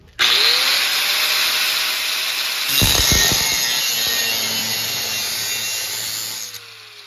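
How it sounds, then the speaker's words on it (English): An angle grinder with a guarded cutting wheel slices into metal at a spot ground earlier, giving a loud, close, continuous high-pitched grinding screech that holds steady for about six seconds, swells briefly partway through, then cuts off. "So I'm gonna show you what the cutting wheel do. So right where I grinded it, I'm going to cut."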